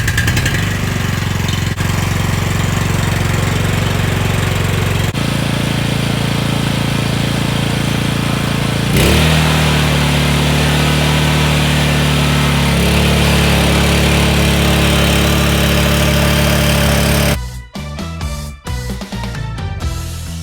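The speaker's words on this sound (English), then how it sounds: "still got to finish tilling this from the other day" A garden tiller's small engine runs loud and close while tilling soil, with a steady rough drone that shifts in pitch and load several times before sputtering into uneven bursts near the end; no talking.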